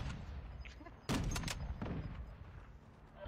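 Gunfire in the Warzone 2.0 video game, a loud burst of a few sharp shots near the start followed by another crack, over a steady background of game noise.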